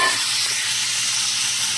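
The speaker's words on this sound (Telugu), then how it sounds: "ఇప్పుడు ఇందులోనే కొంచెం ఆయిల్ వేసుకొని వెల్లుల్లి ఫ్రై చేసుకుందామండి." Garlic frying in oil in a pan, a loud, dense, steady hiss of sizzling with no talk.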